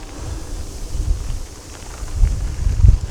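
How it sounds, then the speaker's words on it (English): Wind buffets the microphone while riding a bike along an empty, open road beside an airport in Ottawa, a rough low roar that swells and gusts louder toward the end. "but completely windy road."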